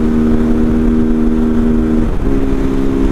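A motorcycle engine running loud and close, a steady droning rev with a brief dip partway through, no talk.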